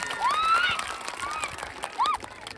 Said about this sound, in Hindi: इसे खूब जोरदार ताली से इनका अभिनंदन करो।